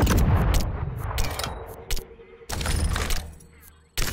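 Gunfire from the video game XDefiant comes in sharp, loud bursts separated by short pauses, with a sustained volley in the middle and a final crack at the end.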